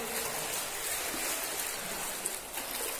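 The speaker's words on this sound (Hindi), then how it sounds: "ये पूरा मोहरी का पानी है।" Sewage drain water flows into a mosque in Barkas, Hyderabad, a continuous close rushing and trickling wash with no voices.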